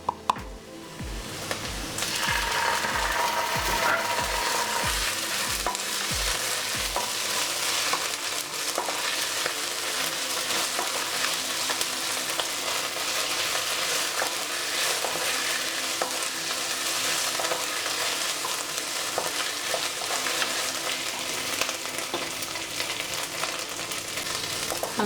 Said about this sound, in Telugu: ఇప్పుడు మనం అల్లం పేస్ట్ వేసుకుందాం